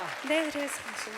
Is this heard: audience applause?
yes